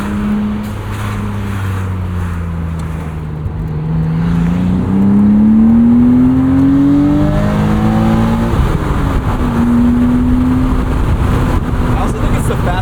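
A 1999 BMW Z3 M Roadster's S52 inline-six engine hums and climbs through the revs, pitch rising smoothly as it accelerates, then dropping and rising again, loud and close.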